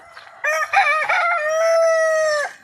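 A rooster crows once, loud and close, a long drawn-out call lasting about two seconds after a brief faint rustle.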